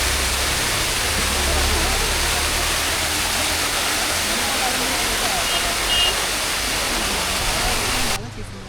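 Periya Kanal waterfall in Munnar roars as a steady, dense broadband rush of falling water, constant and close throughout, cutting off abruptly just before the end.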